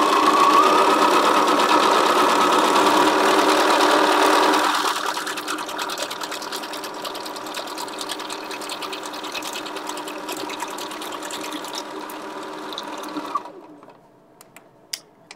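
A Bernina sewing machine stitches down the first layer of a fabric French rose, loud at first, then dropping to a quieter steady hum for several seconds before stopping, with a few faint clicks after.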